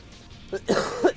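A single short cough, close and fairly loud, with a brief throat-clearing rasp just before it.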